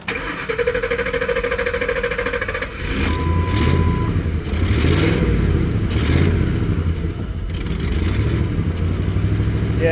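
A warm computer-controlled Ford engine converted to run on propane starts and idles roughly, a loud close mechanical drone that rises and settles in uneven surges.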